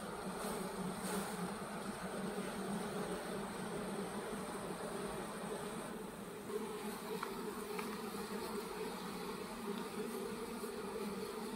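Honeybees buzz continuously around hives and frames during a season's honey extraction, a dense, even drone close by, with no speech.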